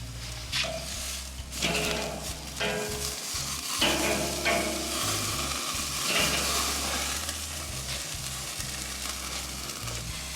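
Top sirloin coulotte sears on grill grates directly over an open fire for Santa Maria style cooking, giving a steady crackling sizzle with a few louder bursts and clatters across the whole stretch, no voices.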